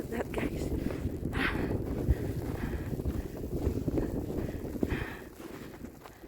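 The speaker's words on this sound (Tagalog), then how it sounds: "It's windy. We're blowing snow." Gusty wind buffets the microphone during an April snowstorm in Winnipeg, a rough, rumbling roar with fluctuating gusts that eases slightly toward the end.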